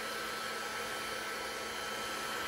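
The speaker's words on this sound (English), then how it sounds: "it'll take a little bit of experimenting to see how long you need to hold your heat gun for this to be efficient" A heat gun blows hot air over epoxy tape on a resin cheeseboard, making a steady close broadband whoosh that holds evenly throughout, with no talk.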